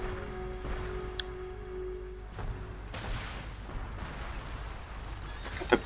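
Cannon fire in a strategy video game, with several scattered booms spread over a few seconds against a quiet, hissy background with faint tonal game sounds.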